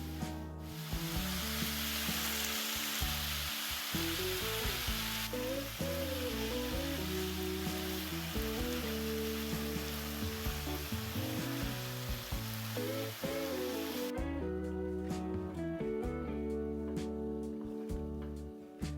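Chicken and caramelized onions simmering together in a pan, a steady loud sizzle and bubbling frying hiss that stays continuous throughout with light stirring, no voices, with background music playing.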